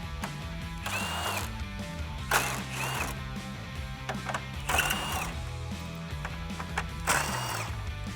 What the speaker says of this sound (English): grab your impact gun or your ratchet and get those off